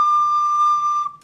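A recorder plays a single sustained D with only the middle finger covering the second hole. It gives a clear, steady, bright whistle-like tone that holds for about a second and then stops abruptly, with no talking.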